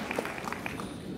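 An audience applauds at an insurance presentation, a brief steady patter of many hands clapping at moderate distance, with a few sharper claps standing out.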